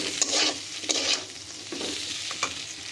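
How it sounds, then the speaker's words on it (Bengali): Potatoes sizzle and fry in a pan while being stirred, with scraping strokes recurring through a steady crackling hiss, close and alone with no talk. "এখানে আলুটা খুব ভালোভাবে ভাজা হয়ে গেছে"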